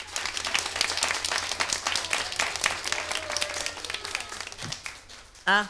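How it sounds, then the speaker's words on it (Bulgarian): A crowd claps steadily in dense applause for several seconds, ending abruptly with a short burst of talk or a squeal at the end. "Аплодисменти за доктор Преславчо."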